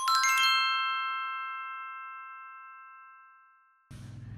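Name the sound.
notification bell ding sound effect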